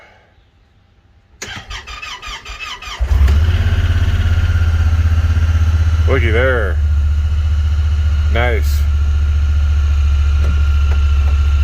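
After a few clicks, a Honda Pioneer 1000 UTV engine, repaired for low idle problems at its idle air control valve, cranks and catches, then settles into a steady low idle; a person speaks briefly over it.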